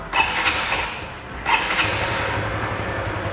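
Honda Supercub 110 motorcycle cranked on its electric starter, two short bursts of starter whir and engine catching, then a low steady idle settling in, close and fairly loud.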